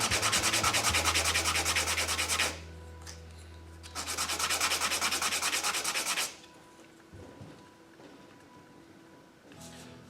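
A sanding block with 80-grit paper scrubs a wooden trimmer in two short bursts of quick back-and-forth strokes, heard up close, then the sanding stops and only a quiet room remains.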